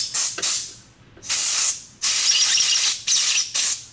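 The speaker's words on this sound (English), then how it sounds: "we're gonna brake clean the heck out of that" Brake cleaner sprayed onto Beta 200RR motorcycle air filter parts in several close, sharp hissing bursts of uneven length, with short silent gaps between them and no talking.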